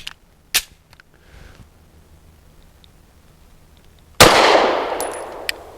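A KOR FX-9 fires Federal HST 124 grain nickel-plated rounds: a few sharp, close cracks early on, then one louder blast with a long ringing, hissy decay.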